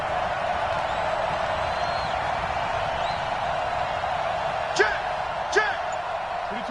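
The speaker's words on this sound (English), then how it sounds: "The crowd getting into it as we come up on a big 3rd down." Stadium crowd noise from a PS4 football video game builds before a big third down, a steady broad roar throughout with two brief sharp smacks near the end, heard under broadcast-style commentary.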